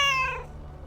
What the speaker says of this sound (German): Langsames Mauzen